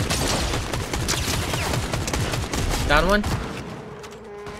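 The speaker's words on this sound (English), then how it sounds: "We're getting shot. We're shooting." Rapid bursts of gunfire in the video game Fortnite, a dense volley of shots in the first three seconds that thins out toward the end, with players talking over the shooting.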